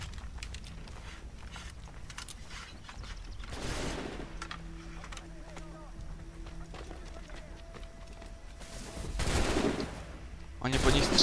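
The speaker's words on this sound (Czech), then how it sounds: "Oni po nich střílí?" Bursts of distant gunfire crackle in the Assassin's Creed III game soundscape, with short volleys and steady background noise.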